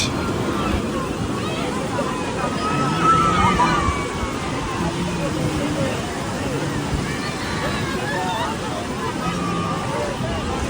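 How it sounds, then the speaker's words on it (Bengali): Sea waves wash and slosh steadily on the beach at Cox's Bazar, a continuous broad surf roar with distant crowd babble and voices mixed in throughout. "অ্যান্ড ওয়েলকাম টু কক্সেস বাজার বিচ"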